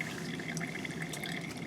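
Water drips and trickles faintly in a small buoyancy experiment, a steady soft liquid patter heard alone and close.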